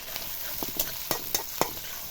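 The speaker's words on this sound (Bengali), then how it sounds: "তেলটা গরম হইতে হইতে দিয়ে দিলাম পেঁয়াজ কুচি।" Chopped onion sizzling in plenty of hot oil in a wok, a steady fry hiss broken by several sharp stirring scrapes and clatters, close and fairly loud with no voices.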